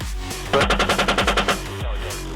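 A combat helicopter's gun fires a rapid burst of about ten evenly spaced shots, loud and close, over a steady rotor drone.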